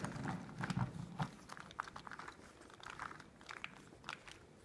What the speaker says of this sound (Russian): Делаем что-нибудь с этим кубиком.